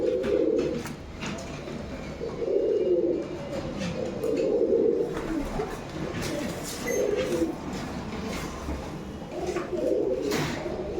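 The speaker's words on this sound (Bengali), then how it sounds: "এটাও রাজশাহীর কবুতর।" Rajshahi pigeons in a loft coo in low, rounded phrases that repeat every second or two across the whole stretch, close and steady, with no talking.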